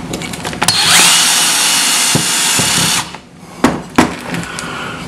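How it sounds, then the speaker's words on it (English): Low-speed power drill driving screws, a loud close whine lasting a couple of seconds that rises as the motor spins up, then stops, followed by a few sharp knocks and handling clatter. "you want to have is a drill that's got a low speed on it"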